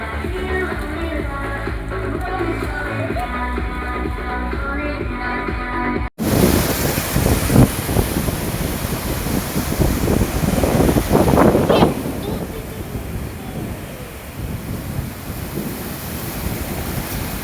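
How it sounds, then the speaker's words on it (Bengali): Heavy surf rolls in on Mandarmani beach at night under stormy, windy conditions with a strong high tide, a steady roar of breaking waves and wind buffeting; the first few seconds carry music before the open surf noise takes over. "সেই সমুদ্রের ঢেউর আওয়াজ কানে বাজছে"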